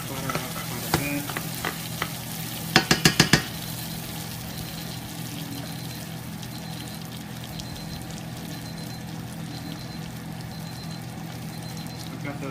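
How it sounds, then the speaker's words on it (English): Butter browns in a hot pan with a steady, close crackling sizzle that runs throughout, broken early by a quick burst of sharp taps. "Brown that butter up quite a bit."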